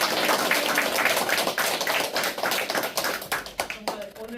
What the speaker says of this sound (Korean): 시인에게 박수 한번 더.